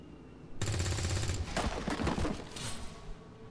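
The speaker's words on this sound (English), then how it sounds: "I'm going to shoot someone." Automatic gunfire in XCOM 2 bursts in suddenly as a loud, dense rapid-fire volley with sharp metallic cracks, lasting about two seconds before tailing off into a ringing decay.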